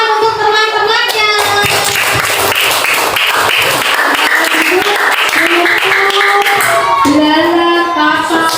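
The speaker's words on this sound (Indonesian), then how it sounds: "Tepuk tangan untuk teman-temannya." Classmates clapping for one another in a school classroom, a lively round of hand claps with children's voices and singing-like tones mixed over it, close and loud.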